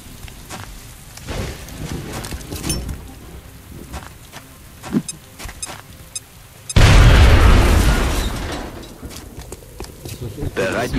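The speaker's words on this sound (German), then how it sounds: "Jetzt wirf deine Granate auf den Feind vor dir." A grenade goes off in the turn-based strategy game XCOM: Enemy Within, a sudden loud deep boom with a rumbling, crackling tail after several seconds of soft game sounds and scattered clicks.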